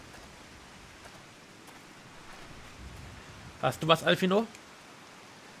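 Soft, steady rain falls in the video game Final Fantasy XIV Stormblood as a faint continuous hiss, with a voice speaking briefly over it near the end.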